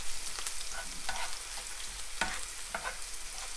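Purple eggplant stir-fried with garlic, chili and oyster sauce in a pan gives a continuous sizzling hiss, broken by a few sharper scraping strokes of a spatula.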